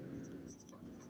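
A pen scratches faintly on paper as a journal entry for forfeiting shares is written out by hand in a Class 12 accounts lesson, a soft voice briefly audible.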